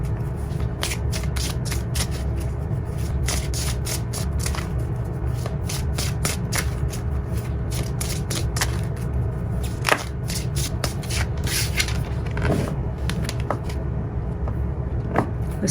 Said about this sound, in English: so we're just going to shuffle.